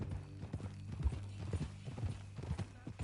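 Horse hooves clip-clop at a steady walking rhythm in the video game Red Dead Redemption 2, close and moderately quiet, with faint tack jingling over a low hum.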